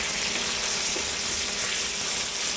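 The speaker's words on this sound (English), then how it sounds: "You can hear them starting to sizzle." Onions in about two tablespoons of avocado oil, heating in a wok at low temperature, giving a steady, even hiss of gentle sizzling, close and fairly soft, with no talking.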